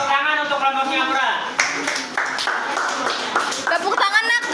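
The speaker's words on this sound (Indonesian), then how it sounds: "Tepuk tangan untuk kelompok Singapura." Students in a classroom clapping hands for a group, a scattered series of claps heard beneath loud voices calling out together.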